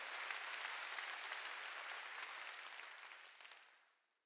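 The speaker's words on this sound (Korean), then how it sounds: "내는 박수로 하나님께 영광 돌려야죠" A church congregation claps continuously during a worship service, dense and even applause that fades out at the end, fairly quiet overall.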